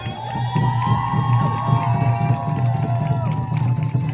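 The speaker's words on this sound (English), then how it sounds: "Let's give a round of applause for Assemblymember Catalina Cruz" A crowd at an outdoor immigrant-rights rally in New York cheers and claps steadily and loudly, with shouts and voices mixed into a continuous roar.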